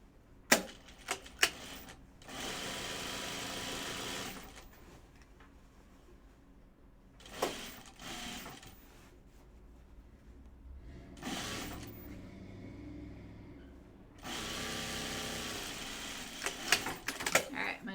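A sewing machine stitches the inseam of poplin pajama pants in several bursts of steady mechanical whirring. Sharp clicks and handling noises fall between the runs, along with quiet stretches.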